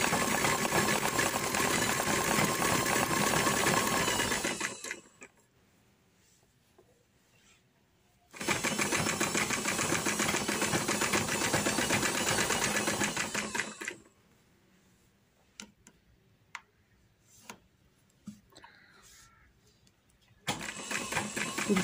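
Sewing machine stitching trouser fabric, running in two long continuous loud bursts with a steady mechanical whir, separated by a quiet stretch of faint handling clicks and taps, then starting again at the end.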